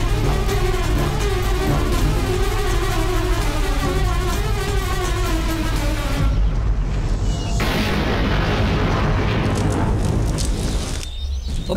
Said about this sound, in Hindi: अबे बम फूटा, चल निकलते हैं।